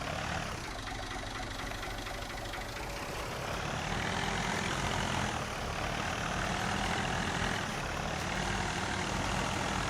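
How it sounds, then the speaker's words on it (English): A tractor engine in Farming Simulator 19 drones steadily while it pulls a seeder, a continuous low rumbling hum with no breaks, moderately quiet. "I think this tractor was made for this seeder"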